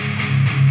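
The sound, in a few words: guitar amp plugin at full drive, fully distorted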